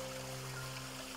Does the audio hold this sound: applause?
no